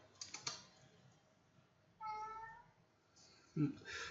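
A cat meows indoors near a computer, a drawn-out tonal cry in the middle of the clip amid faint keyboard typing and clicks, with a brief low thump near the end.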